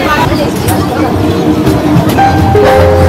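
A moving train bound for Prayagraj rumbles steadily with continuous rattling noise, while people talk indistinctly in the background.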